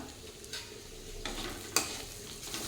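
A spoon scrapes and stirs flat bean dal frying with spices in a pan, soft sizzling underneath with a few sharper scraping strokes, close and fairly quiet, no talking.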